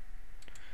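Two quick, crisp clicks of a computer mouse come close together over a faint steady background hum, with no voice.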